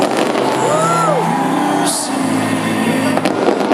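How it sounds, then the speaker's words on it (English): Downtown Houston fireworks show bursting over a large outdoor crowd, with steady booms and crackle, a whistling rise and a sharp bright pop near two seconds, loud and continuous against general crowd noise. "Friday Night Fireworks, brought to you by ConocoPhillips."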